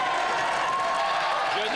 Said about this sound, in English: because you can hear all the cheering